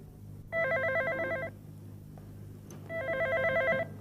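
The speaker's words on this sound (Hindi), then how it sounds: "देखो फोन बज रहा है" An old-fashioned telephone bell rings indoors in a Pakistani TV drama: two long, rattling ring bursts separated by a pause, fairly loud over a quiet room hum, with no talking.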